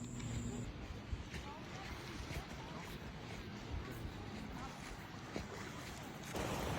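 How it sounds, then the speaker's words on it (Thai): Water rushes and cool wind gusts at the mouth of a cave in rural Laos, forming a dense, continuous roar that swells slightly near the end. "ตอนนี้เราก็ได้ยินเสียงน้ำที่ปากถ้ำมีลมเย็นตีออกมาเป็นระยะระยะนะครับ"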